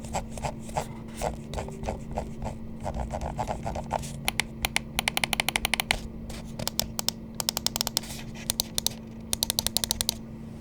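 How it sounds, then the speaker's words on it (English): An ASUS ROG Harpe II Ace wireless esports mouse is clicked repeatedly, with crisp close clicks that come singly at first and then in quick rapid bursts over a faint steady hum. "Let's go ahead and drop a click quality sound test."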